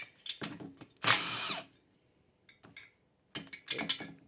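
A power tool whirs in a short burst loosening a cylinder head nut on a Polaris 250 4x4 quad, followed by scattered metallic clicks and handling noises, close and fairly quiet.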